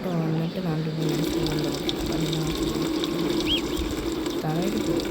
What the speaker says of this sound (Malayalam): ആദ്യമേ നമുക്ക് ഫ്യൂവൽ ഒഴിച്ചു കൊടുക്കാം